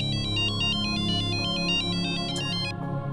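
A phone ringtone plays a fast, repeating electronic melody, loud and close, with steady rhythmic pulses that cut off abruptly near the end.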